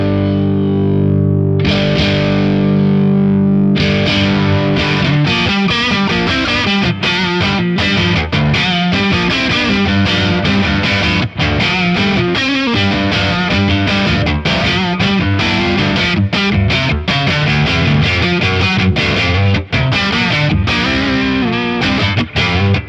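Electric guitar driven through a Thorpy FX The Dane boost pedal set with plenty of lows, sustained chords giving way to loud, crunchy, distorted riffing that runs continuously without speech.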